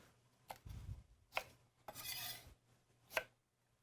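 A knife chops parsnips on a board, giving a few sharp, separate thunks with a short sliding scrape between them, close but quiet, with no speech.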